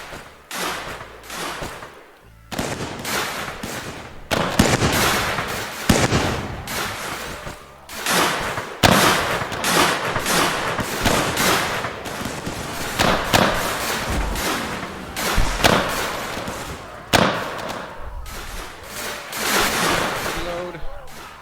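Repeated musket volleys and scattered shots in a Mount & Blade Warband American Civil War mod battle, irregular cracks and thuds over a long stretch with someone talking throughout.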